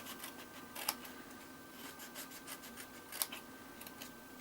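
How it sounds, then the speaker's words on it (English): Scissors snip notches into scored cardstock for an embossed butterfly gift box, the soft rubbing cuts punctuated by two sharper clipping snaps, close and quiet with no talking. "we're just going to cut up these and take a little notch out"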